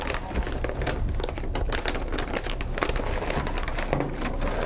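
Roses wrapped for delivery being unwrapped at a floral shop and greenhouse, with continuous close, loud crinkling and crumpling of wrapping material and no talk.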